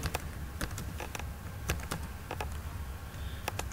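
Someone types a password on a computer keyboard, producing a steady run of sharp, close key clicks in an uneven rhythm, alone without talk.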